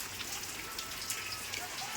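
Heavy rain falling in a continuous wash of noise, drops pattering densely on nearby surfaces without a break.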